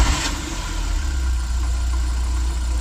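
A Foton TM Gratour 1.5 engine turns over briefly and then settles into a steady, close idle with a low rumbling hum.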